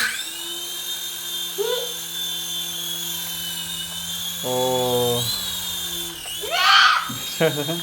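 A high, steady electric whir runs throughout, likened to a small helicopter and heard at a dentist's chair with the air blowing out of the tool, while voices talk and laugh over it nearby.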